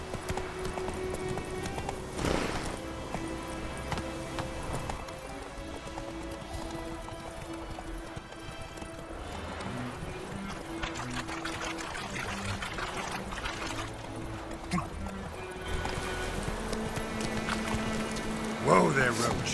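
Horse Roach gallops in The Witcher 3, hooves clip-clopping steadily through the whole stretch over game music and ambience, with a voice speaking now and then.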